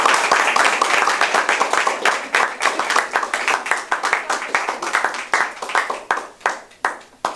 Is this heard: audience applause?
yes